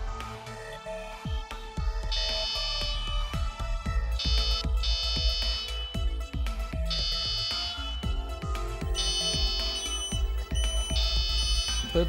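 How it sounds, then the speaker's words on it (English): A smoke alarm beeps in repeated loud high-pitched bursts, steady and insistent, over a rhythmic thumping background with no talking. "wait for the security systems to detect smoke formation and give an alarm signal"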